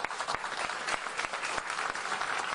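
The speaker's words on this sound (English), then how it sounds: "deserves another round of applause for keeping this team in Columbus" Sustained applause from an audience at a Columbus Crew event honoring MLS commissioner Don Garber, dense rapid clapping filling the room with steady loudness throughout.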